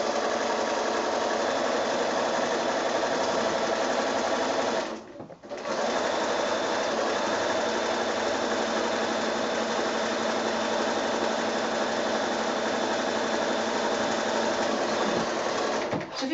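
A sewing machine runs a zigzag stitch over raw fabric edges in a long, steady, close mechanical whir, pausing briefly once before carrying on at an even pace.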